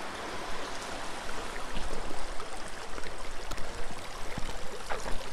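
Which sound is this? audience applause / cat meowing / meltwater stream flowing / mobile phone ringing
meltwater stream flowing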